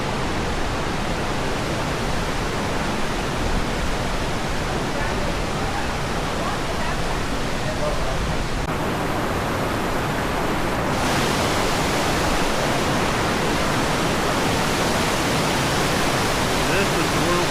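Wyoming's world's largest cold water geyser erupting, a steady, loud, broadband rush of spraying and falling water that roars without pause, with a slight shift in tone partway through.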